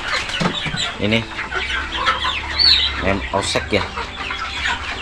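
Crossbred Indonesian native laying hens, an imported kampung layer type, cluck repeatedly in a noisy poultry pen while someone talks close by.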